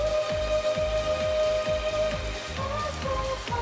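Steady rainfall patters across a surface in Final Fantasy XIII, a dense even hiss with low rhythmic thuds from a musical backdrop underneath.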